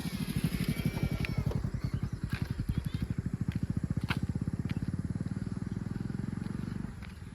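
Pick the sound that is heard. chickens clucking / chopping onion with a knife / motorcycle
motorcycle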